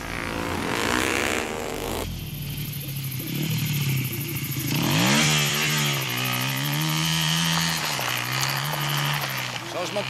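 Motorcycle engine in a 2022 action film scene, revving with rising and falling pitch sweeps and a steady drone under loud spoken dialogue and background score.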